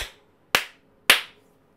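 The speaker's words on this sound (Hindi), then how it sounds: "फिर लेफ्ट हैंड पे तीन बार ताली बजाएंगे" Two sharp, isolated hand claps ring out about half a second apart after a trailing earlier clap, close and clear in a quiet room during a Hindu mantra ritual.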